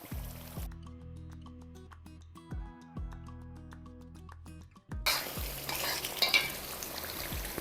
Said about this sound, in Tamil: இந்த எண்ணெய்க்குள்ளே போட்டுடலாம் எல்லாம் ஒன்றா சேர்ந்து நல்லா வதங்கட்டும்